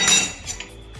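A metal spoon stirs Gujarati-style ridge gourd sabzi with added spice masala in a pan. It gives a few quick, close metallic clinks and scrapes over about a second.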